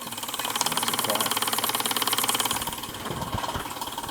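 A Stirlingkit SE02 miniature Stirling engine runs smoothly, driving a generator and a GF-01 miniature workshop model. It gives a fast, even mechanical ticking and whirring that holds steady and fairly close throughout.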